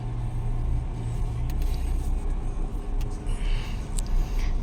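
Steady engine drone with road rumble from inside a 2014 Nissan Juke while driving, a constant low hum throughout and a few faint clicks and ticks.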